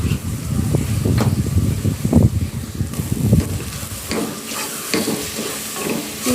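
Ground spices, pepper powder and garam masala stirred and frying in hot oil for a Sri Lankan chicken curry: a steady, close sizzle with scraping ladle strokes throughout, no talking.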